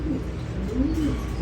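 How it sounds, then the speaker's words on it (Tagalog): A black pigeon coos in low, soft repeated calls, fairly close, over a faint steady background hum, with no talking. "Napakagandang kulay itim na kalapati niyan."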